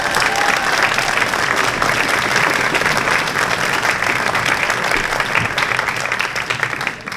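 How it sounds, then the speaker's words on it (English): A school spring concert audience at OHS gives the principal loud, dense, sustained applause that stays full throughout and tapers only slightly at the very end. "Round of applause for her."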